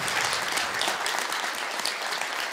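An audience applauds steadily and loudly, a dense wash of many clapping hands without pause.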